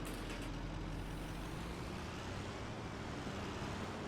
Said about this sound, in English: we can actually pull the water trailer with our truck